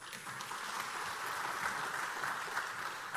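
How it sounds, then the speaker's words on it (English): An audience at an award ceremony claps steadily, a continuous wash of mid-distance applause with no voices over it. "Excellent round of applause."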